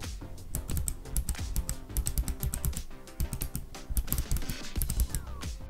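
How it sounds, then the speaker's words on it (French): Keys on a Razer Ornata V3 computer keyboard clicking in quick, irregular bursts of typing, close and crisp, with no talk. "J'ai un magnifique clavier Razer, un Ornata, je crois, un Ornata V3."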